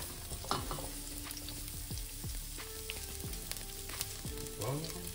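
Onions hit hot oil in a saucepan and fry with a quiet, steady sizzle, punctuated by faint clinks of a utensil stirring through the pan.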